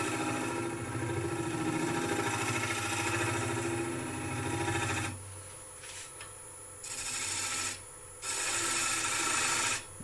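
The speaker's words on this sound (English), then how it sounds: "Just using the skew like a scraper really" A skew chisel, used flat like a negative-rake scraper, rasps steadily against rippled sycamore spinning on a wood lathe, over the motor's hum, with brief breaks where the cut stops and restarts.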